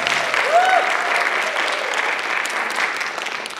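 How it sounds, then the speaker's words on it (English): An indoor audience at a nonprofit training event claps in a steady burst of applause lasting a few seconds, even and moderately loud. "Round of applause for Susie."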